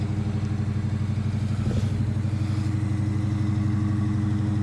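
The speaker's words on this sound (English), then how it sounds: "I uh, just wanted to kind of give you a cold start here for you." A 2019 Dodge Charger with a Hemi V8 fired by remote start on a cold morning, its engine running with a steady, rumbling idle and a brief rise in revs partway through, heard up close with no talk.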